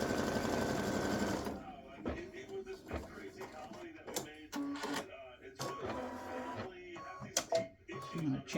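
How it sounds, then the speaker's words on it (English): An embroidery sewing machine stitches a placement outline for a tic-tac-toe board, a fast, steady mechanical buzz up close that stops after a second or two, followed by scattered clicks and handling noises. "So I'm going to stitch the next color stop, which is the placement stitch for the squares."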